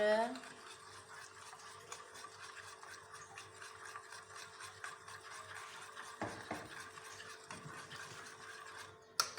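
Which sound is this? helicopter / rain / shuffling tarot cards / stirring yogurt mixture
stirring yogurt mixture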